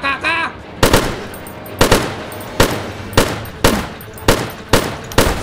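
Shotgun blasts fired at zombies in the video game Zompiercer, six sharp booming shots at a steady rhythm roughly one per second, loud and close, with a brief electronic tone before the first shot.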